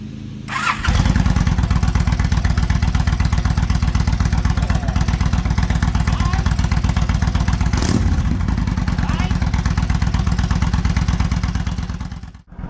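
A Yamaha V-Star 1300 motorcycle cold-starts after a short crank, then settles into a loud, steady, thumping idle close by before cutting off.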